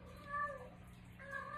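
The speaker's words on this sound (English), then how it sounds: "Don't mind the cat." A house cat meows twice indoors, two faint, drawn-out calls separated by a short pause over a quiet background hum.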